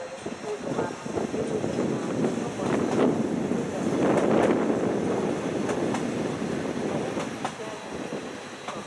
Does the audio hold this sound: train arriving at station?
yes